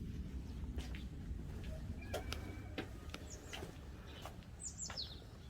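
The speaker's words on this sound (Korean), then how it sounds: "새소리가 들리고요" Small birds chirp and tweet in short, scattered calls across a quiet traditional hanok garden with a koi pond and blooming magnolias, faint and somewhat distant over low background hum.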